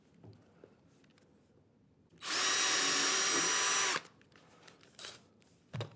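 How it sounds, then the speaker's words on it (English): A power drill drives a screw into a plywood workbench part held in a vise, a single loud steady whir of about two seconds rising out of a quiet room, with light handling knocks before and after. "drive a screw into this one"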